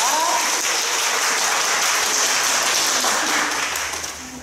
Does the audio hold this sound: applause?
yes